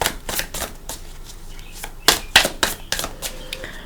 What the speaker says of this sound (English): I'm going to shuffle for your cards.